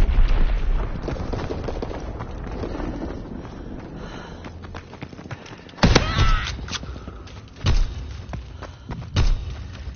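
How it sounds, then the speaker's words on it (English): Bomb blasts during a Call of Duty WW2 team deathmatch hit as several loud booming thuds against a busy mix of game noise. "Enemy bomb incoming. Get to cover."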